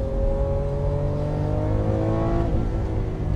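A Lamborghini engine revving steadily, with a loud, sustained harmonic drone whose pitch climbs gently before shifting, heard alone without talk.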